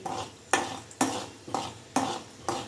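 A spoon scrapes and clinks against a pan about twice a second while urad dal, mustard seeds and cumin are tempered for coconut chutney, a soft sizzle sitting underneath the rhythmic stirring.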